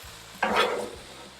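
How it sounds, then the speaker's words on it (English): Butter hits the hottest part of a Blackstone griddle beside steak for carne picada tacos, bursting into a close, bright sizzle that swells and then eases off. "we're going to get a little bit more of butter right on that hottest part of the griddle"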